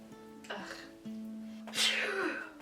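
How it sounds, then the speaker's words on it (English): A single sharp sneeze bursts out near the end, preceded by a softer intake and a short throat noise, with a faint steady hum in the background. "I'm gonna sneeze again."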